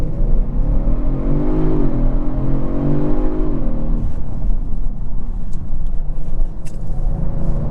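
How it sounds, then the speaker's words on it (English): A 2023 Kia Stinger GT2 AWD launches hard from a standstill, its engine climbing loudly through a rising rev sweep before easing off into road rumble and wind noise. "I'm just going to floor it from a standstill"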